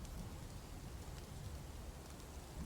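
Steady rain falling in the video game Dwarf Fortress, a constant soft hiss of drops with no other sounds over it.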